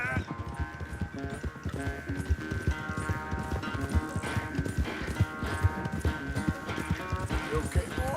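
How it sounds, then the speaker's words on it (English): Horse hooves gallop in Red Dead Redemption 2, a fast continuous clip-clop rhythm running steadily throughout, set under a layer of game music. "The horse is fast, but it's not going to beat mine."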